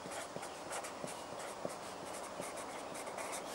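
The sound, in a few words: writing the bike model on a paper frame bag template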